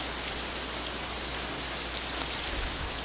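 Steady rain in the visual novel Katawa Shoujo, a constant soft hiss of drops on a surface, loud and even throughout with no voices.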